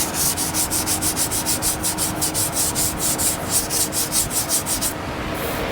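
A sanding block rubs back and forth over primer on a C10 truck body, a steady rasping scrub repeated in quick even strokes, close and continuous, ending in a softer rub with no talk.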